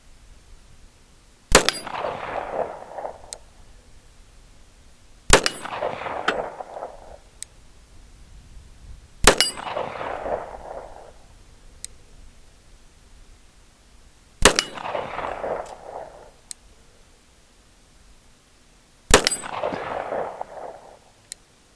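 Springfield Armory 1911 TRP pistol firing handloaded 230-grain ammunition outdoors, five sharp, loud single shots spaced several seconds apart, each with a metallic ring and a trailing echo, and no talking.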